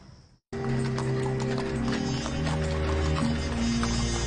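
A horse pulls a hansom cab, its hooves clip-clopping in a steady rhythm, loud and close, after a brief quiet start.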